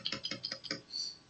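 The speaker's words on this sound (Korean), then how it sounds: "스페이스바를 한 번 더 누르면" Five quick, light taps on a computer keyboard come in a steady run, close and quiet, followed by a brief faint tone.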